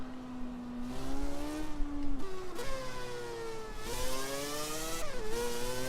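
A 700hp four-rotor rotary-engine Nissan Silvia drift build in Forza Horizon 3 revs high, its engine note climbing and dipping through several rev swings, a steady loud buzzing whine with no talk.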